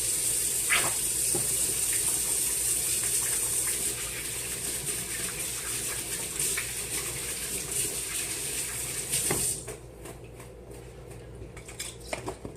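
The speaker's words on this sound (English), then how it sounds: "I'm gonna wash my hands" Hands being washed under a running kitchen tap, a steady close gush of water with faint clinks of dishes, stopping near the end as the tap is shut off.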